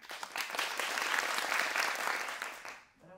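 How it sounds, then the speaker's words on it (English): A lively audience claps loudly and steadily for a shy five-year-old boy's bow at a mini stage show, the applause sustained for a few seconds before tapering off abruptly. "when he bows, a large applause."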